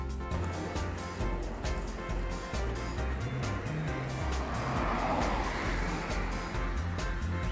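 Steady road traffic rumbles continuously near Watford Junction station, a dense wash of passing cars and engine noise at moderate loudness with no clear pauses.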